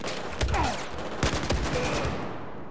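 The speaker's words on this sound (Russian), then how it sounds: "Еще выстрелы и труп." Scattered gunshots crack in quick succession in Battlefield 4, a few sharp bursts spread over a few seconds with a whooshing sweep between them.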